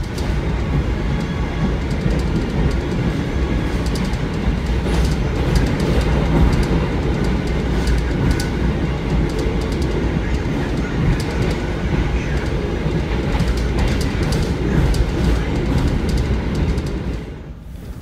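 Kamandaka passenger train runs steadily on rails, heard from inside the car as a constant loud rumble with faint rhythmic clatter of wheels over track joints, fading slightly at the very end.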